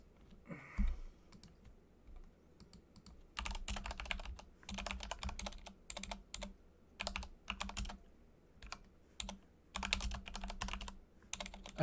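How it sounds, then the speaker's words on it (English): A computer keyboard being typed on at close range, with quick bursts of clattering keystrokes separated by short pauses, running steadily throughout with no voices. "I take it you're typing something out."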